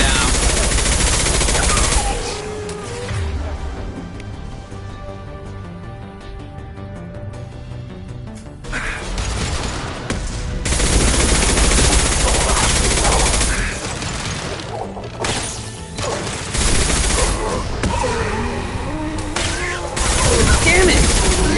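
A firefight in the video game Mass Effect 2, with loud, sustained machine-gun bursts and volleys that drop briefly into a quieter lull with a humming drone before rattling back up, while voices call out during the battle.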